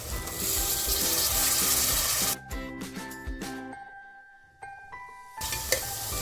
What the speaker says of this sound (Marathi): मग वटाण्याला चांगले फ्राय करते